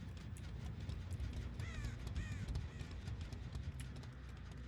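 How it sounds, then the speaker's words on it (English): A crow caws twice in a video game, two short harsh calls in quick succession, moderately distant under a steady rumble of game noise and footsteps. "I have expected to hear another crow."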